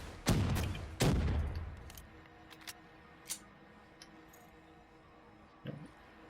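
Upgraded Mustang and Sally pistols fire in Call of Duty Black Ops 3 Zombies on Kino Der Toten: two loud explosive blasts in quick succession, each trailing off, then fainter scattered pops and ticks.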